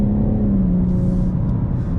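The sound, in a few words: electric car accelerating hard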